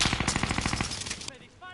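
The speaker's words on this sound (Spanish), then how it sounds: "¡Me disparan!" Rapid automatic gunfire in Call of Duty: Warzone, close and loud, with quick regular shots that stop after about a second, leaving faint game sounds and a brief voice.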